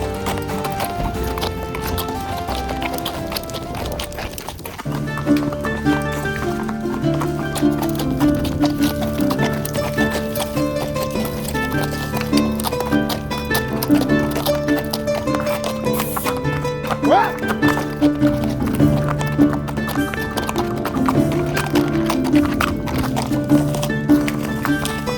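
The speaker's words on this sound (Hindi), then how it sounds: "जैसे जैसे हम जंगल के और अंदर जा रहे थे, हॉर्स राइड और भी इंटरेस्टिंग होती जा रही थी।" Horse hooves clip-clop along a forest trail in Matheran during a horse ride, a steady repeated clopping close by, mixed with music and other background sound.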